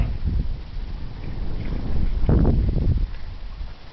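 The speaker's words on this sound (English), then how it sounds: "Just a nice little breeze today." Light breeze blowing through an Aermotor windmill set down between two hill ridges, a steady low rush of wind noise on the microphone that swells into a stronger gust midway, then eases off again.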